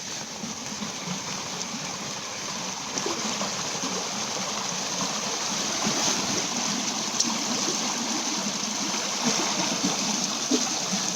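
A small creek flows steadily, a continuous close-up rush and trickle of water with no voices.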